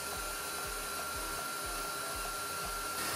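Electric mixer whipping a cream cheese frosting base of hot-syrup-brewed eggs, a steady loud motor whir running throughout with a faint rhythmic thump repeating about twice a second, no voices.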